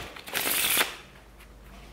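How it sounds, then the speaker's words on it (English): A deck of playing cards shuffled by hand, one quick riffling flutter lasting under a second, close and fairly loud, then fading into quiet room noise. "look, guys, I shuffle deck"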